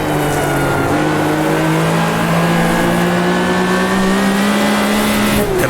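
Race car engines from an AI field in Automobilista 2, a steady loud whine of revving motors with pitch climbing smoothly, several cars layered close together at the end of a lap.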